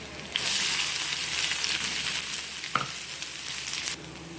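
Onion sizzling in hot oil for vegetable momo stuffing: a steady, close frying hiss with one brief utensil clink partway through, and no voices.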